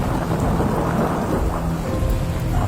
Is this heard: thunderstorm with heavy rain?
yes